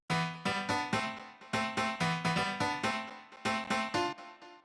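A piano layer from the Nexus plugin, constrained by a Scale MIDI effect, plays repeated chords in a steady rhythm, each struck chord decaying quickly before the next, close and clear with no talking.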